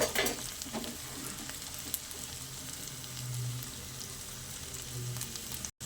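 Egg and brinjal curry is stirred with garam masala powder in a pan, a quiet continuous sizzle with soft scraping strokes, close but faint, ending abruptly; no talking.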